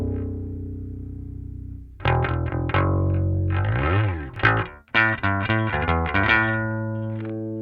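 Bass guitar runs through the Neural DSP Parallax X plugin with heavy distortion. A sustained note gives way to a series of loud, gritty, fast-changing notes with little low end, and the bass plays alone.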